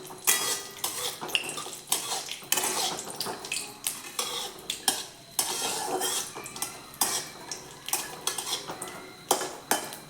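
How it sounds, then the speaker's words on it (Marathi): Dry fruits sautéing in ghee for beetroot halwa, frequent metallic clinks and scrapes of a spoon against the pan over a faint, light sizzle, close and busy. "आणि याच्यामध्ये ड्रायफ्रूट्स टाकलेले आहेत. हे थोडंसं परतून घेणार आहोत."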